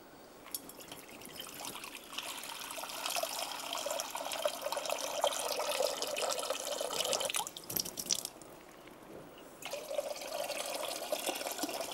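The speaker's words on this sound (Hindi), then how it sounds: "तो मैं क्या करूँगी, इधर पानी लेती हूँ।" Water from a kitchen tap runs into a container while a cooling drink is prepared. The stream trickles and splashes steadily, close by, with a couple of brief pauses and no talk.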